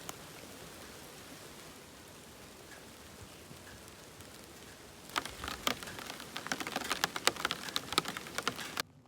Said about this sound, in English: I didn't find anything other than a quick passing rain shower